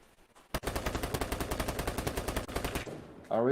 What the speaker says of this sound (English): I hear him shooting over here somewhere.